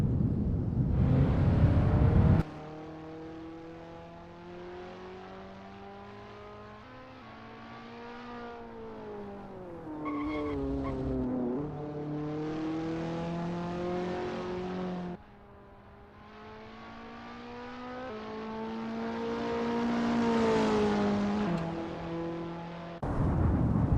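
Race cars in Assetto Corsa warm up on the VIR full course, a single engine droning and revving steadily through gear changes, rising and falling in pitch, loud and close with no talk.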